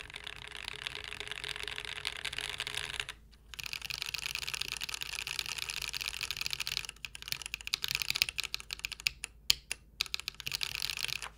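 Steady typing on a custom mechanical keyboard with a brass plate and PBT keycaps, a quiet run of close, rapid key clacks that stops briefly, then resumes as irregular bursts with no one talking.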